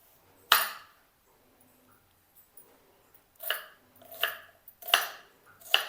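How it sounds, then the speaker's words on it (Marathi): A knife chops an onion into large pieces on a home kitchen board, giving a sharp thunk followed by four more firm cuts at a steady, unhurried pace, close and alone with no talk. "कांदा कापून घेऊया"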